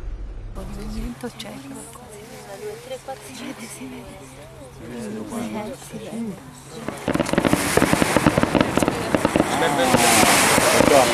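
Fireworks crackle and pop in dense bursts during a night-time sea turtle hatching on a beach, rising in the second half after people talk.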